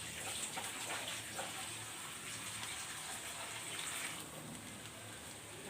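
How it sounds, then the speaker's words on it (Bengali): Water pours steadily into a pan of thin, gravy-style country chicken curry, a continuous soft gushing and splashing that carries on evenly for several seconds with no voices. "আমি এখন এটাতে ঝোল দিয়ে দেব"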